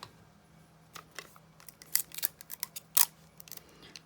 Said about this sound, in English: I'm going to pull in some Scotch tape here